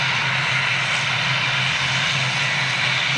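Boeing 737 engines roar steadily at Manchester airport, a loud continuous broadband rush with a low hum, unbroken and without talk.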